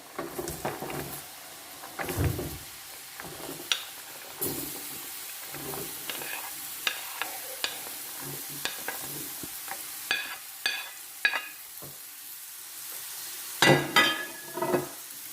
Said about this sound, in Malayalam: നമുക്ക് ഇതിൻ്റെ അകത്തേക്ക് നമ്മുടെ ബീറ്റ്റൂട്ട് ഇട്ട് കൊടുക്കാം